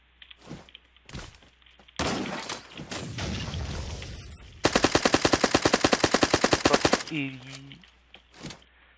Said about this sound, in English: I appear to have been shot at.